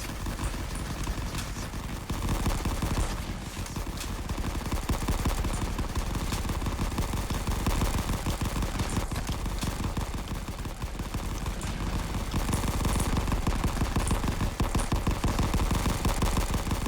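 Machine guns rattle in the WWII shooter game Rising Front, a dense continuous barrage of rapid gunfire and battle noise that stays loud and steady throughout with no talking.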